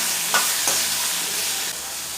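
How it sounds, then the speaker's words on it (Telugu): Medium tomatoes, cut lengthwise, frying in a spoonful of oil in a kadai: a bright, steady sizzle broken by two quick stirring scrapes near the start, with nothing else over it. "అదే కడాయిలో 1 స్పూన్ ఆయిల్ వేసుకుని మీడియం సైజు టమాటాలను పొడవుగా కట్ చేసుకుని ఆయిల్లో వేసుకోవాలి."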